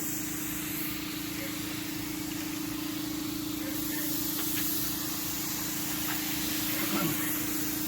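An HVLP paint gun sprays Helmsman spar urethane with a loud, constant close hiss and a steady compressor-like hum beneath it, running uninterrupted throughout.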